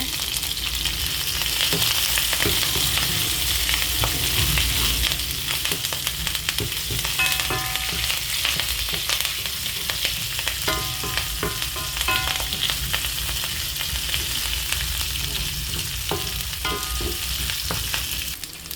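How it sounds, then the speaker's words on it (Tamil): Sliced small onions, dried chillies and curry leaves sauté in sesame oil for a snake gourd stir-fry, giving a steady, loud close sizzle with faint scraping stirs throughout and no voices. "இந்த வெட்டி வச்ச சின்ன வெங்காயம் வெத்தல் கருவேப்பிலை எல்லாம் போட்டு வதக்குங்க"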